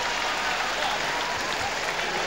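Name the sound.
crowd applauding at a track cycling sprint finish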